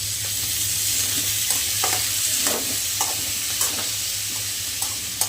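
Sweet potato pieces frying in ghee for Navratri fasting chips, a steady close sizzle with intermittent stirring scrapes and clicks of a utensil against the pan, no voices.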